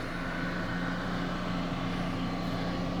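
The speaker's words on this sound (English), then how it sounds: "That's it, the revs sound good" A Toyota 75 series Troopy labours uphill on a border bush track, its engine droning in a loud, continuous, steady rev held close by throughout.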